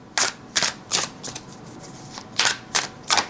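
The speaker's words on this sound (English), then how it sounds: "Right, overhand shuffling. Oh, these are slippery." Slippery new tarot cards being shuffled overhand, giving bursts of quick papery riffling and slapping in uneven clusters, close and fairly loud, with short pauses between passes.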